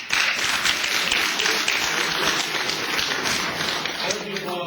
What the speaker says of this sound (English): Hold the applause, please, until the end.